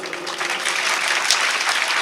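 Steady audience applause, dense and even, fills the short moment with many hands clapping together at a constant level and no talking.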